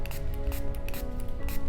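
Water spritzed onto a hair brush from a spray bottle in short bursts, a few close, hissy puffs over a steady low background hum.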